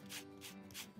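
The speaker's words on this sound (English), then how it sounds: "I'm gonna zest some lemon into the powdered sugar, about 2 teaspoons." Lemon is zested into powdered sugar, giving three quick, faint scraping strokes close by within about a second.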